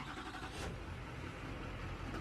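A pickup truck engine starts and settles into a steady, loud, close running rumble outdoors during a 5th wheel hookup, with no voices over it.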